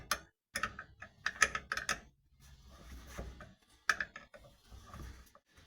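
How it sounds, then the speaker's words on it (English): A spanner works a stubborn 14mm nut on the fuel filter of a 1996–2005 Mitsubishi Magna, giving close, irregular metallic clicks and ratcheting scrapes in short bursts separated by quiet gaps. "I didn't think I'd ever loosen that 14mm nut"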